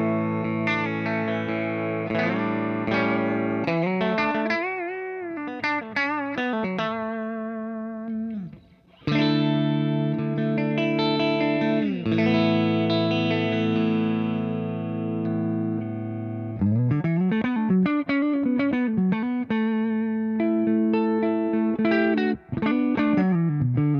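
Suhr T-style electric guitar played through a Fillmore 50 combo amp, clean and slightly chorused, with strummed chords and melodic runs ringing out continuously, loud and close.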